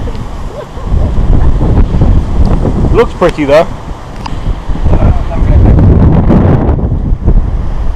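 Strong wind at the top of San Marino buffets the microphone with a loud, steady low rumble throughout, while a person talks briefly over the gusts.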